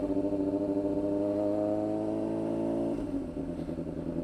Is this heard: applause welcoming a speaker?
no